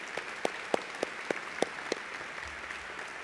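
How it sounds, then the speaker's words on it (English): A small group at an awards event claps in a brief, sparse round of applause, individual claps distinct and evenly spaced, fading out after a couple of seconds. "Let's give them a round of applause."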